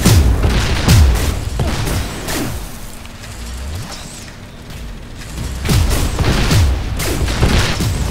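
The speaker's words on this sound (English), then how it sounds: "Changing to shotgun." Shotgun blasts in a shooter video game, several heavy booming shots with mechanical reload clacks between them, loud and close, clustered at the start and end with a quieter stretch in the middle.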